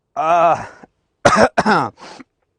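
A brief voiced sound, then a few harsh, close coughs in quick succession, ending with a softer, breathy cough.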